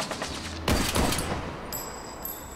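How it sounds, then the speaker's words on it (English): A rooftop shooter atop an electronics shop fires in the Tesla Effect adventure game: a quick cluster of sharp gunshots, two to three close together, loud against a steady background, followed by a high electronic tone. "Someone was shooting from the top of the electronics shop."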